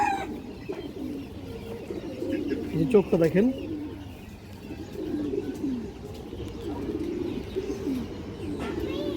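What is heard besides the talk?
pigeons cooing, female pigeons being shown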